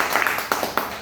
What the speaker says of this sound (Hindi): प्लीज उनके लिए जोरदार ताली।